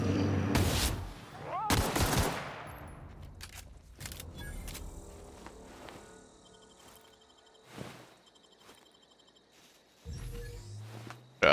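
Game gunfire from The Outer Worlds: several sharp, loud shots in quick succession near the start, then scattered bursts and impacts over a faint ambient bed of insect chirps and hums.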